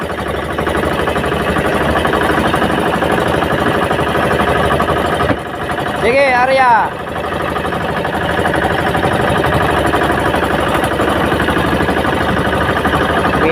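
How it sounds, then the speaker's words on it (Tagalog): Two boat engines drone steadily and close at a fishing tournament off Tanza, Cavite, a continuous low mechanical rumble with a brief warbling tone partway through, and a few words spoken over it. "Dalawang makina oh."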